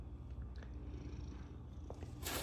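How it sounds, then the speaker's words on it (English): A munchkin cat purrs steadily and close by, with faint soft meows mixed in, recorded indoors with no talking. "Meowing and purring, huh? Meowing and purring."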